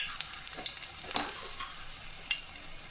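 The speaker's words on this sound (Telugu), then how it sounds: "తర్వాత ఆవాలు, జీలకర్ర, ఇవన్నీ వేసేద్దాం." Mustard seeds and cumin tempering in hot oil, sizzling steadily with small crackles and pops scattered through the short stretch, close by and fairly quiet, with no talking.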